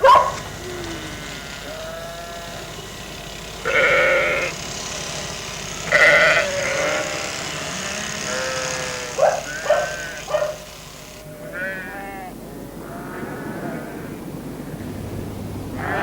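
Sheep bleating in the Pennine limestone dales in summer: several wavering bleats come at intervals over the sixteen seconds against a quiet outdoor background, some near and loud, others fainter and overlapping.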